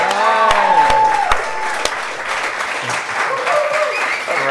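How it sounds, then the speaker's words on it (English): A studio audience breaks into loud, sustained applause and cheering as comedian guest Robert Richman comes onstage on a talk show. Dense close clapping runs throughout, with a few voices and bright tones near the start. "please put your hands together and cheer ridiculously loud and long for our next guest, Robert Richman"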